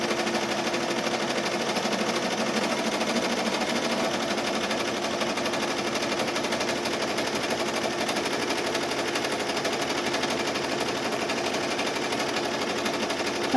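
An embroidery machine stitches an appliqué, giving a steady, close mechanical whir with a fast, even needle patter that runs without a break for the whole stretch.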